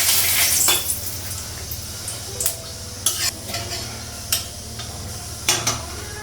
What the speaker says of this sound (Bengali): তো তেলটা একটু বের করলাম আর তেজপাতা দিলাম।